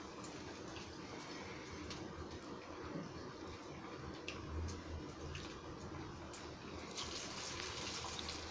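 Paruppu vadai fry in hot oil with a steady, dense crackling sizzle that holds throughout, fairly quiet and close, with a slight rise near the end.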